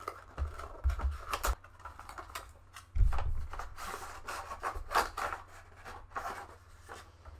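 Corsair K95 RGB Platinum keyboard being lifted out of its box, with close rubbing and scraping of cardboard and packaging in several short bursts, then quieter shuffling rustles.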